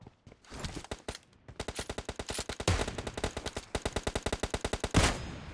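Automatic weapons fire in PUBG Mobile, rapid rhythmic bursts of shots that rattle on almost without pause, fairly distant and moderately loud.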